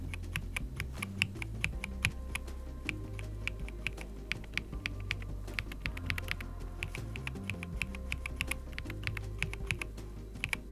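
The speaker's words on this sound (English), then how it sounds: "the Mint Mambos have an almost stocky sound to them" Keys on a Redragon Eisa Max keyboard fitted with Mint Mambo switches are typed in a quick, steady stream of close, muted clacks with a deep thocky thud.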